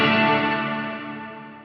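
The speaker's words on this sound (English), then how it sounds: "Turn it up and you have a ton of reverb." An electric guitar chord through a Quad Cortex with heavy reverb dialed up rings out and decays slowly, its washy, effected tail fading gradually over nearly two seconds with no talking.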